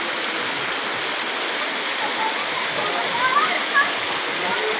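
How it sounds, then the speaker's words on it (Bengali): A strong stream of rainwater rushes during heavy rain, making a loud, steady, close roar that never lets up. A faint voice is heard underneath. "দেখছেন পানির স্রোত"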